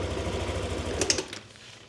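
A used 2021 Yamaha NMAX 125 scooter with about 63,000 km idles with a steady, rapid mechanical patter, close and fairly loud, then fades somewhat near the end.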